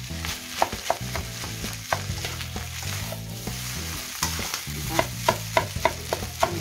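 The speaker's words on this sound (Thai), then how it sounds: "คลุกเคล้าข้าวกับทุกอย่างที่เราผสมลงไป" Fried rice with Chinese sausage being stirred and tossed in a hot pan, steady sizzling under repeated sharp clacks of a spatula scraping and knocking the pan, close and fairly loud with no talking.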